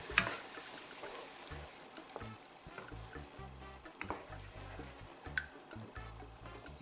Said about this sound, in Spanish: está haciendo ya chuchu el tomate